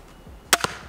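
An American crossbow fires a single shot, giving a sharp, close snap and a quick second clack right after, with quiet room noise around it.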